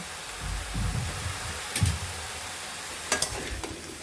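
Vegetable curry with green chilies and salt sautéed in a pan, a soft steady sizzle with occasional stirring scrapes and a couple of sharper clicks of a utensil, close and quiet.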